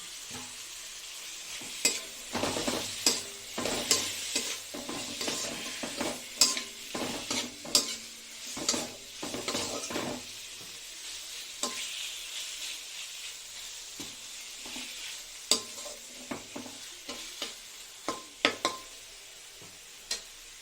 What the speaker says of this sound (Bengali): মাংসটা আমার কষানো হয়ে গেছে অনেকটা